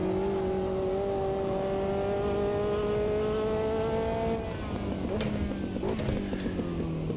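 A Caterham race car in Automobilista 2 revs hard toward 8,000 RPM with a steady rising engine howl, loud and continuous, then shifts and settles into a rougher, busier drone near the end.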